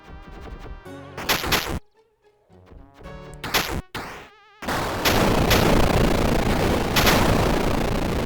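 Gunfire in the strategy video game Epicinium, with short clipped bursts separated by brief silences, followed by a loud, sustained rushing barrage.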